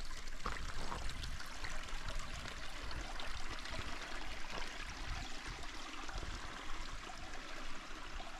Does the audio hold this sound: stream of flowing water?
yes